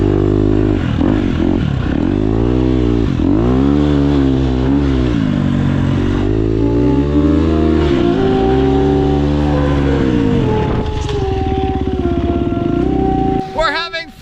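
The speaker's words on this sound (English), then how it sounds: "this Husqvarna here, it takes off really fast, just like the speedway bike" A Husqvarna 250 motorcycle on a tropical beach, engine rising and falling through loud revving surges and repeated acceleration, close and continuous, easing off near the end.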